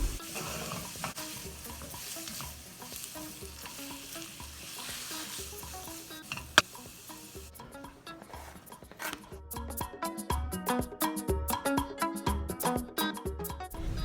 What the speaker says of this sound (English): I'll add the rest of the veggies and stir it for an additional 30 seconds